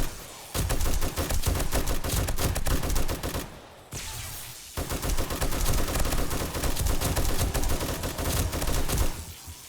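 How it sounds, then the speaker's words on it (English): Sustained rapid bursts of M60 machine gun fire and heavy blasts from contact grenades fill a zombie horde fight in 7 Days to Die. The gunfire is loud and nearly continuous, with one brief pause midway. "We're fully prepared to take them on in the street with the M60 and the contact grenades"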